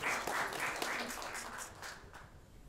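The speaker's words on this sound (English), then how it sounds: "let's give us a round of applause for Alberto and Austin" Audience applause at a UX design fireside chat during the Connecting the Americas 2024 event, a steady, fairly soft patter of many hands that fades slightly toward the end.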